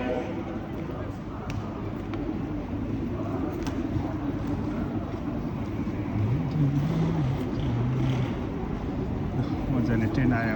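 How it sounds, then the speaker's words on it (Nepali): A train rolls into a station in Germany with a low, steady rumble that swells slightly as it approaches, with a brief tonal squeal or horn-like note partway through and voices faintly in the surroundings. "मजाले ट्रेन आयो अब।"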